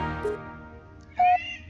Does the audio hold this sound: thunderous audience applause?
no